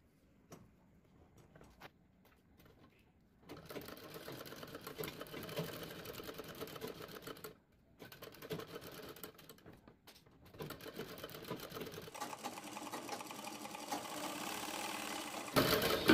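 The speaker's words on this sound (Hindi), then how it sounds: "अब आपको इस बचे हुए कपड़े को ऐसे अपनी बुकरम के ऊपर ऐसे फोल्ड करना है और यहां पर सिलाई लगाएंगे" Sewing machine stitching folded blouse fabric onto buckram for a back neck design, a quiet steady motor whir running in several stretches with brief stops between them.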